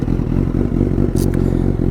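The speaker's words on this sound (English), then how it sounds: "The Fireblades have quite a deep rasp to the exhaust note." A Honda CBR1000RR Fireblade with no exhaust baffle idles and revs close by, a deep, raspy, pulsing exhaust note throbbing steadily, with a short hiss near the end.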